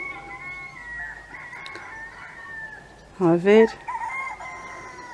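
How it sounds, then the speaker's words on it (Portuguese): Roosters crow outdoors in the village of Capelas on São Miguel island in the Azores, one loud nearby cock-a-doodle-doo ringing out after softer calls farther off, with a brief spoken question. "Vocês que se deliciem com esses cantares desses galos."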